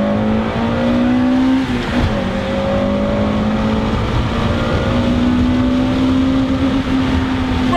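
A high-revving Acura Integra Type R four-cylinder engine screams loudly from the cabin, its pitch climbing and bouncing against the rev limiter with brief dips between pulls, no talk.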